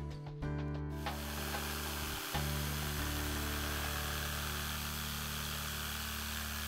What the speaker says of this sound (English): Cut the notches using a jigsaw.